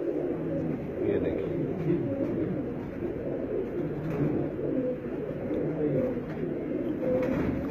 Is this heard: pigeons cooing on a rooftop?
yes